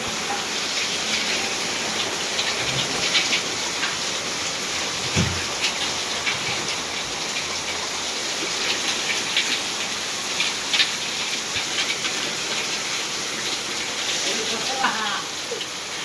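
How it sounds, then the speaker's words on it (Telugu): Heavy rain pours down as a dense, steady hiss that holds continuously throughout, with occasional louder splashes. "ఇంకా వర్షం అయితే దండిగా పడుతుంది"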